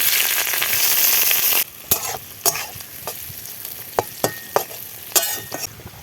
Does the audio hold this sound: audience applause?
no